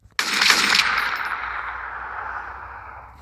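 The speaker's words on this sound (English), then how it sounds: "I don't know why I keep firing these rounds, plus this is a Colt Python right here." A Colt Python revolver fires in the Roblox video game: one sharp, loud crack opens the clip, then a metallic ring fades out slowly over about three seconds, with no voices.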